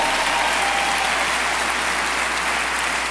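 Dense, steady audience applause at a business presentation, a loud wash of many hands clapping at once, continuous throughout with no speech.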